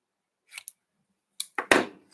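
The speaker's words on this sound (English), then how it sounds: "I am going to cut these on the diagonal." Scissors slice diagonally through cardstock for a Christmas card: a few short, crisp snips spaced apart, close and clear in an otherwise quiet room.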